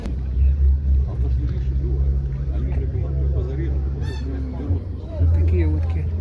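Red-sided ducks for sale at a winter livestock fair in Kropotkin give honking, goose-like calls amid a busy crowd, with people talking nearby and a steady low hum of market noise throughout.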